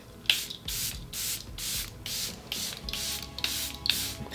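An Airbrush Flawless Setting Spray bottle sprays about eight crisp, airy hisses in a steady rhythm, close and clear, with no talking.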